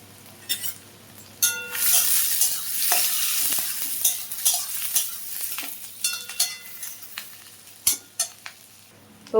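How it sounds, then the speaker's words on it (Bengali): Chopped onions fry in mustard oil in a hot wok, sizzling steadily while a metal spatula stirs them with repeated scrapes and sharp clinks against the pan. "পেঁয়াজটা ভাজা ভাজা হচ্ছে"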